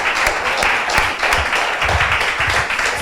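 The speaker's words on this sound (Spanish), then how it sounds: "Dale un fuerte aplauso a querido, gloria a Dios." Loud, sustained applause from a church congregation during a Spanish-language service, dense clapping filling the whole stretch with a few sharper claps standing out.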